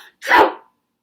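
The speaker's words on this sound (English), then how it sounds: "I huffed and I snuffed and I sneezed once again into my elbow." One quick, loud sneeze bursts out in a quiet room during a children's story read aloud, a brief sharp blast that stops abruptly.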